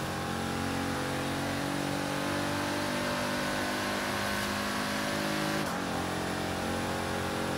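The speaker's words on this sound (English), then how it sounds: "there's something weird and almost unsettling about that turbo noise" A supercar engine in the video game Forza Horizon 3 whines with a high turbo-like tone, revving and shifting briefly before holding steady, heard alone without voices.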